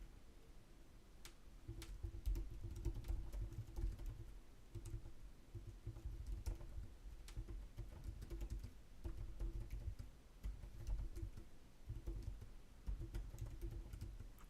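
Fingers typing on a computer keyboard, a steady run of soft, close key clicks with brief pauses over quiet low hum.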